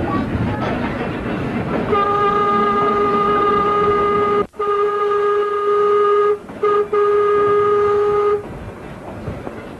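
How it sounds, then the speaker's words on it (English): Vintage trolley cars on old jointed rails rumble steadily, with a sustained tonal horn or whistle sounding over the running noise for several seconds, briefly interrupted, then fading back to plain rolling clatter. "No high-speed welded rails here. The passengers hear every click and clack."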